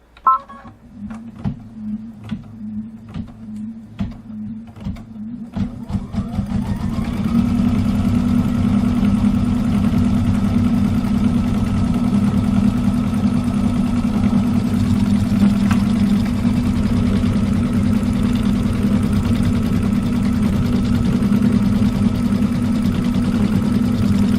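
An embroidery machine tacks Flexi foam in place for a quilt project, starting with a few distinct ticking clicks before settling into a steady, loud mechanical hum that runs on without a break.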